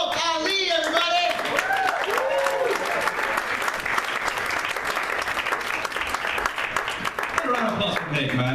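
A stand-up comedy club audience applauds comedian ComicAli, with steady dense clapping and cheering that lasts throughout, mixed with whoops and voices from the crowd.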